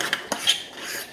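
A metal spoon clinks and scrapes against a bowl while stirring microwaved oats, with a few sharp taps and then a soft swishing scrape, close and alone.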